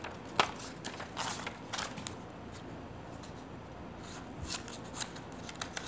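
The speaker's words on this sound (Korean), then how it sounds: "제일 중요한 메인이 가위이니까 가위 먼저 테스트를 해보겠습니다" Small scissors on a Leatherman Micra keychain multitool snip through material in a quick series of crisp, close, quiet clicks and crunches, with no talking.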